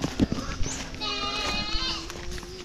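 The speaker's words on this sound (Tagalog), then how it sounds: "Ngayon lang nakita ng ganito kalaking kambing" A very large goat on a rural family farm gives one drawn-out, wavering bleat, close by, while people chat and children's voices sound around it.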